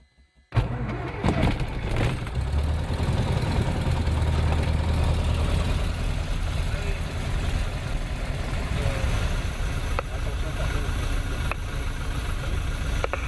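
After a short silence, the cold, manually primed engine of a Robin DR400 light aircraft cranks and catches abruptly, then settles into a loud, steady rumbling idle that continues close by.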